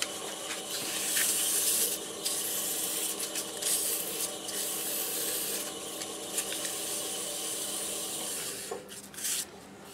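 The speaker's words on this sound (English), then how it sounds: "I believe I can sand the rest of this." Sandpaper rubs against a spinning walnut bowl on a wood lathe, giving a steady, loud, hissing friction with the motor's hum underneath that barely changes, then dips briefly near the end.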